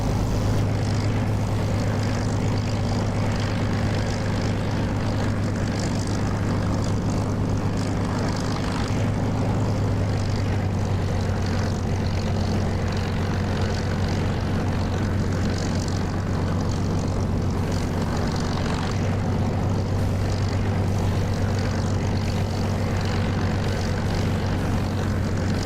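A Spitfire's propeller engine drones steadily while taxiing in the DCS flight simulator game, a constant loud low hum with a whooshing prop wash and no talking throughout.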